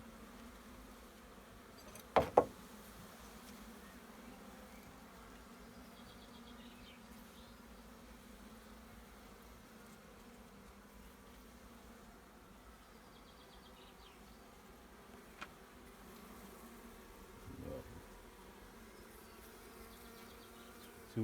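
Honey bees buzzing around a hive, a faint, steady droning hum throughout with a few brief knocks and handling noises, no speech.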